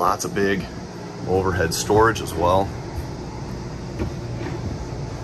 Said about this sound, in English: I don't know if you can hear that whir in the background. That's actually the AC.